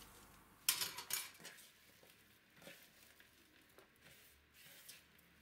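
Shredded cabbage is tossed with salt and sugar on a tabletop, giving a brief sharp clatter at the start followed by soft, faint rustling and squishing, close and quiet, with no talk.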